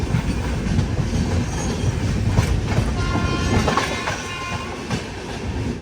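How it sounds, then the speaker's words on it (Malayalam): A Mumbai–Solapur Siddheshwar Express train running into Kurduvadi Junction station, a steady loud rumble with clattering wheels and faint squeals over the rails, heard from on board. "സമയം 6:45 കുർദുവാടി ജംഗ്ഷൻ റെയിൽവേ സ്റ്റേഷനിലേക്ക് ഇതാ ട്രെയിൻ എത്തിക്കൊണ്ടിരിക്കുകയാണ്."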